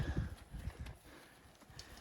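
Cattle hooves clop and shuffle over ground on a mountainside, several uneven steps close by at moderate loudness, fading somewhat toward the end.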